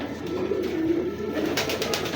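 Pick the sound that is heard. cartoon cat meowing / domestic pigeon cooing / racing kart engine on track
domestic pigeon cooing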